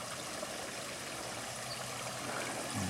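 Garden brook water flowing steadily, a continuous broadband rush and trickle that stays close and even throughout, with no voices over it.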